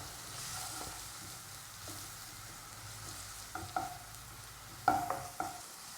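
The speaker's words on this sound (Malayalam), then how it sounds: "നല്ലപോലെ ഇളക്കി ആ വെളുത്തുള്ളി ഇഞ്ചി പേസ്റ്റിൻ്റെ പച്ചമണം മാറ്റിയെടുക്കുക." Garlic-ginger paste frying in a pan for liver masala, a soft, low sizzle with a few spatula scrapes and taps near the end, close but quiet, no talking.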